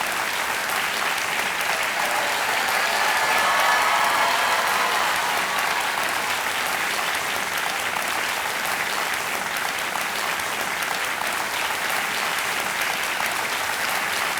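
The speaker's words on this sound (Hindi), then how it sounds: "जोरदार तालियां बज जाए" A studio audience on a televised quiz show breaks into loud, sustained applause, a dense even clapping that fills the whole stretch without pause.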